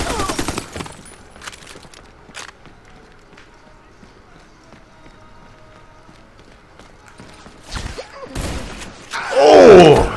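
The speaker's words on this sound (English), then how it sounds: "that shotgun messed me up" Shotgun blasts in the Army of Two: The Devil's Cartel shooter, loud broadband bursts at the start and near the end, with sparse game noise between and talk over parts.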